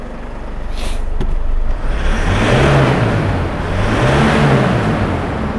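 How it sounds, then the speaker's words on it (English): Ford Ranger 3.0 diesel engine idling roughly on four cylinders with an injector fault, a loud steady mechanical rumble with a faint rise in pitch partway through. "All right, the car is running on 4-cylinder now."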